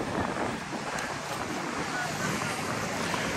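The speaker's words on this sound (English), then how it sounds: "Ooh, breezy. Wind's coming up out of the south." Wind buffets the Naples Pier in Florida with a steady broadband rush and rumble, loud and close, while surf washes beneath it without pause.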